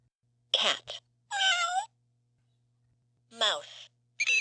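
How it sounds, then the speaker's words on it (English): A cat gives three separate meows, close and clear, with short silences between them and a faint low hum underneath. "Cat."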